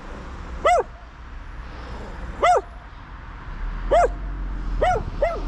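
A dog lets out sharp, near, high-pitched yelps and whimpering barks, about five separate cries spaced a second or two apart, with quiet rumbling in between.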